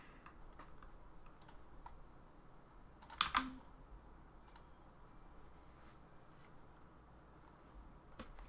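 Faint computer keyboard typing, a few soft clicks scattered through quiet room tone with a brief louder burst of keystrokes near the middle, close and isolated with no talk.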